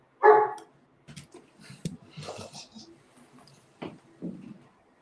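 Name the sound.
dogs barking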